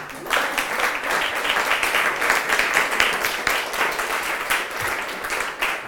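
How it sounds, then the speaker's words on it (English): Steady applause from a crowd, dense clapping that holds at an even level throughout, fairly close. "I think maybe another round of applause for Charles Lindsay."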